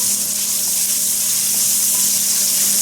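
Roux cooking in bacon grease in a pan after smoked sausage has been browned, a steady, even sizzle with soft hissing that holds at one level throughout, with no voices.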